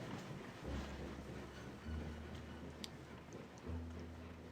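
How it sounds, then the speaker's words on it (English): A train passes in the video game Alisa, a low, steady rumble with rising tonal drones and faint wind-like hiss, heard alone and fairly quiet throughout. "So once the train gets out of the way,"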